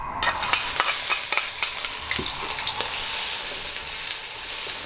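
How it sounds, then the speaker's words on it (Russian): Oil sizzling and crackling loudly as onion and garlic fry, with scattered pops and a few stirring clicks over a steady hiss, no voices. "Хорошо разогретое масло кидаем на нарезанный лук"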